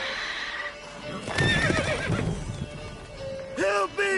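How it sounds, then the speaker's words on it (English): A horse neighs in the Witcher 3 video game, with a whinny partway through and a sharper, closer neigh near the end, over outdoor ambience with faint hoof clip-clops. "Whoa there, Roach"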